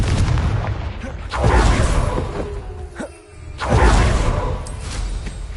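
Two heavy blasts from the Confringo fire spell in Hogwarts Legacy, each a loud booming burst with a whooshing tail, the second following a couple of seconds after the first, with no talk over them.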